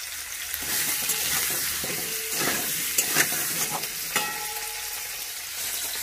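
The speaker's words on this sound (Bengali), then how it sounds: "আর এক সাইডে আমি আলুটা ভেজে নিচ্ছি।" Potato pieces sizzle and fry in a pan with salt and a little turmeric, a loud, steady crackle of hot oil with occasional stirring scrapes, heard up close with no talk.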